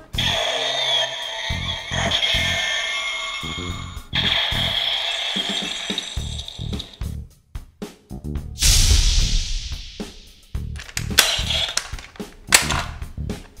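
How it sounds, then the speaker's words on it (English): Electronic finisher effects from a Medagaburyu Axe toy: a run of loud synthesized zaps, cracks and whooshing bursts, with a sharp burst near the middle and snapping hits toward the end, all close and with no talking. "All 6 sound effects will use the same finisher sound effect when you click the button."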